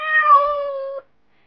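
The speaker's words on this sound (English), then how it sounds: "Great job. It's a cat." A cat lets out one clear, drawn-out meow that slides slightly downward and ends abruptly, with nothing else around it.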